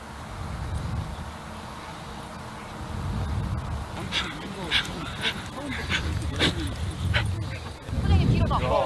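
A large pack of thirty-eight dogs on a group walk gives off repeated yips, whimpers and barks that rise above a busy outdoor din, with people talking throughout.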